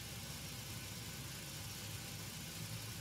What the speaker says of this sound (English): the air is being ducted from the APU, spinning up the left engine.